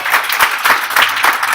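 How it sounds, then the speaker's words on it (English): Audience at a network marketing presentation breaks into a short, loud round of applause, a thick burst of many hands clapping close together. "And that deserves a big round of applause."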